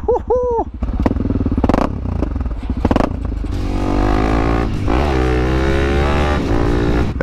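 Powerful motorcycle engine revving loudly at close range, with a throaty rumble and climbing pitch sweeps as the throttle is blipped, joined by a short burst of a voice near the start.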